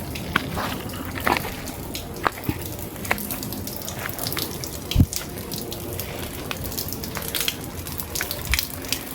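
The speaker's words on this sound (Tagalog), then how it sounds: "May natulo na yan. Yan sila nag-iigib." Water from a forest spring trickles and drips steadily as people fetch it, a soft continuous flow with scattered close splashes and a few sharper drops.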